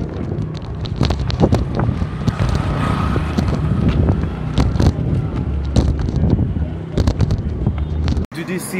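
Strong wind buffets the microphone outdoors amid heaps of garbage in Nyali, Mombasa, a loud continuous rumble with gusty thumps, and people speak over it.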